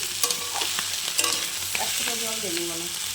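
Vegetable curry with small fish, cooked with turmeric and no added water, being stirred in a pan: steady close scraping and clinking strokes over a soft continuous sizzle, with no voices.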